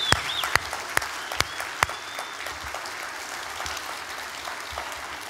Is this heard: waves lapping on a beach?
no